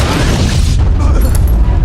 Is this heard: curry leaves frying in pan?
no